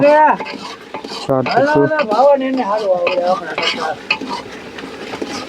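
Mixed vegetables sizzle and get stirred in a pan as salt goes in, with utensils clinking against the cookware, all under steady talk from several people at an outdoor cooking gathering.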